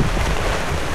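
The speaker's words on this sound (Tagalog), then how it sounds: "Inabutan ng ulan." Steady, loud rain falling outdoors, a dense continuous hiss with no voices heard, as a downpour sweeps in.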